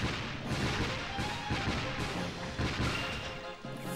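Dense, loud bursts of gunfire and impacts in the video game Dark Chronicle pound in quick succession, layered with crashing effects, with no speech.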